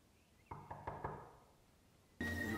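Four crisp knocks on a wooden door in The Lord of the Rings: The Fellowship of the Ring, evenly spaced and fairly close, followed by a pause before louder film sound cuts in.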